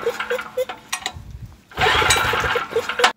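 A Homelite LR4300 generator with a Robin Subaru EY28 engine fires up on choke, with sputtering putts, a brief pause, then a loud, uneven running chug close by.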